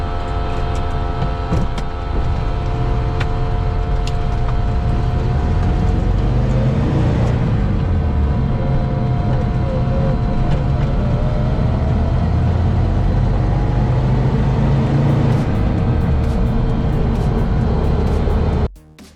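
ZAZ Zaporozhets car driving along, its engine a loud, steady drone with rumbling road noise throughout, fading suddenly at the end, with no voices.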